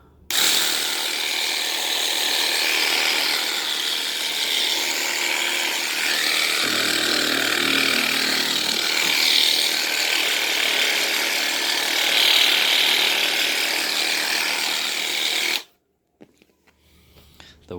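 A Hypervolt or Theragun percussive massage gun runs loudly and close for about fifteen seconds, a dense rapid buzzing with a brief change in pitch midway, then cuts off to near silence.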